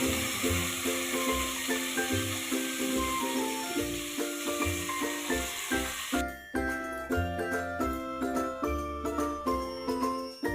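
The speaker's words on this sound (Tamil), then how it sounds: "ஜீரகம் பூண்டு இந்த ஆயிலில் ஃப்ரை பண்ணிவிடுவோம்." Cumin and garlic sizzle and hiss in oil in a pan while rhythmic clinking and tinkling of a utensil against metal repeats throughout; no talking.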